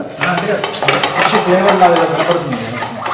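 Fish curry fries loudly in a pan with fenugreek seeds as a spoon stirs and scrapes through it, a close, dense sizzle with rhythmic scraping and no talk.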